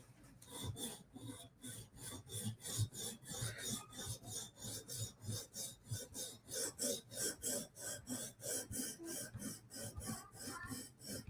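A Chris Reeve Sebenza knife is sharpened on a TSProf Kadet guided sharpener, close rhythmic rasping strokes of stone on steel repeating steadily and quickening toward the end.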